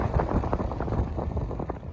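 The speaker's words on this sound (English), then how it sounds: "it's windy up here now." Wind buffets the microphone in low, rumbling gusts, steady and fairly loud, with no voices.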